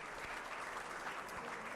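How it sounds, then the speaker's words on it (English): An audience applauds a panel at the close of a discussion on name, image and likeness in collegiate sports, steady dense clapping filling the room without pause. "I'll give this panel a round of applause first."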